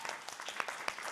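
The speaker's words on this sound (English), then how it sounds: "Can we give her a round of applause?" Faint applause from the audience at a summit, a short burst of scattered clapping with distinct separate claps, heard at a distance.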